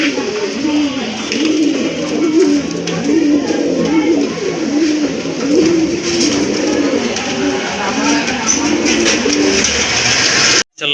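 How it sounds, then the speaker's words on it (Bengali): Domestic pigeons kept for sale, including red Rajgolla birds, coo in a repeated rolling rhythm. Several birds sound close and fairly loud against a steady background hiss. "চলেন আর কথা বলবো না, আপনাদেরকে কবুতরগুলো দেখায়।"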